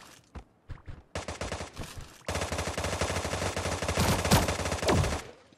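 Rapid automatic gunfire from the battle royale shooting game Sausage Man, sharp bursts starting sparse and then running as a loud, sustained volley of close shots with brief gaps.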